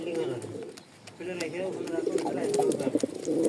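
Pigeons kept for sale, including breeding pairs, coo softly in repeated throaty phrases close by while a person talks over them.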